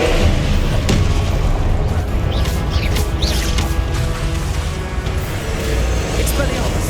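Repeated Confringo fire-spell explosions in Hogwarts Legacy, a dense, loud wash of booming blasts and crackling bursts that overlap continuously in the middle of a magical duel.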